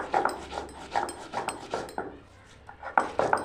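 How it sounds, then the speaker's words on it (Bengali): Soaked raw atap rice is ground by hand on a flat grinding stone with a stone roller. Close, rhythmic scraping strokes come in quick bursts, pausing briefly midway before resuming, with no talking. "আতপ চালটা আমি পাটাতেই বেটে নেব।"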